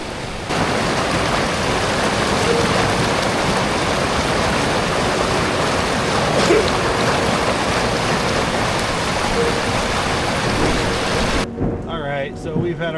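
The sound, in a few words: rain and a raging creek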